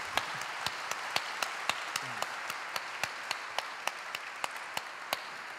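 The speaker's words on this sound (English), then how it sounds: "Let's give him a round of applause." Audience at a Salman Rushdie book talk applauding, a fairly quiet, steady run of claps with distinct individual hand claps standing out at a regular rhythm.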